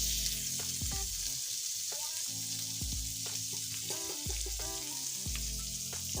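A mixture for beef mince kachori frying in a pan while being stirred, with a steady bright hiss of frying, occasional soft utensil knocks, and a musical backing track underneath.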